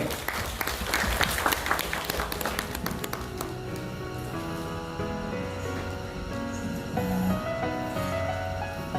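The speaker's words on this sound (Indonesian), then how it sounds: "Beri aplaus dulu." An audience at an Indonesian seminar on the rural digital economy breaks into applause, a dense burst of clapping that is loudest in the first few seconds and then thins out beneath a lingering room hum and background music.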